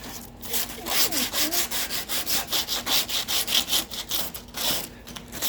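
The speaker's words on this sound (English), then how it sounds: "I'm trying not to tear the sandpaper" Sandpaper rubbed back and forth over wood for a table, a steady run of rhythmic scratchy strokes, close and moderately loud, with a few brief pauses.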